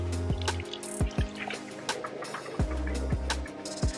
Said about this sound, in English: before we put the mulch on, we're going to water it in real well